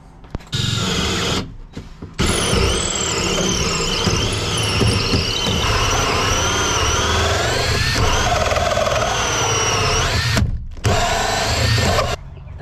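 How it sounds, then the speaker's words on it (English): A power drill with a long drill bit whines steadily through wood with a rising squeal, stopping briefly a few times before starting again, close and loud. "when I'm drilling with the long drill bit"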